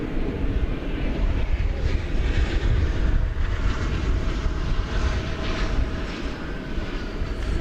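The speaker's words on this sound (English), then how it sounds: "This Delta flight 2643, is going to Minneapolis-St. Paul, one of the Delta hubs. It's an Airbus A320." A Delta Airbus A320 airliner roars loudly and continuously on the runway at DFW Airport, a broad steady jet engine rumble that fills the whole stretch without any talk.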